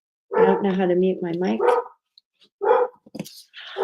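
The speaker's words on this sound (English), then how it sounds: "Sorry about the dog." A dog barks in a run of loud, close yelps at the start, then gives a few more sharp barks while a person speaks over it.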